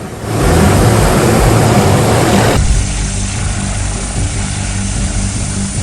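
A helicopter setting down, its rotor and engine roar loud and broadband, then dropping sharply in intensity to a lower, steadier whine and rumble as it settles.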